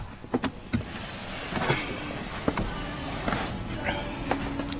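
An electric seat motor in an Audi SQ7 whirs in short, faint bursts inside the cabin, separated by quiet gaps and light clicks, with no talk over it.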